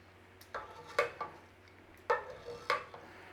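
A utensil scrapes and clinks against a frying pan while stirring fish fingers, a handful of soft, irregular taps and scrapes, quiet and close with no talk.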